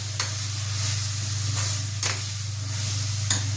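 Red chili thecha sautéing in a pan, sizzling steadily up close while a few sharp scrapes of the spoon stir it over a low background hum.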